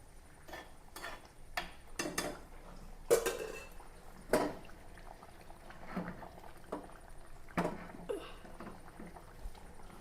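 A spoon stirs fish curry in a cooking pot, giving scattered clinks and scrapes against the metal at irregular intervals, fairly faint and close, with no talking.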